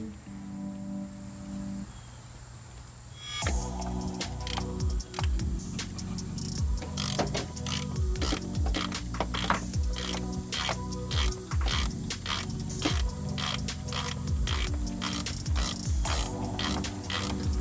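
Ratchet wrench clicking rapidly while backing off nuts on a car's brake master cylinder, a dense run of close, loud ratcheting strokes after a quieter opening few seconds, continuing steadily to the end with no talk.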